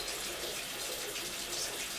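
Tap water pours steadily from a faucet over a makeup brush being rinsed under the stream, a close, continuous hiss and splash with no pauses or speech.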